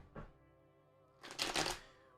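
Two bursts of cards being riffled and shuffled, a short one first, then a longer, louder flutter, close up with no talking.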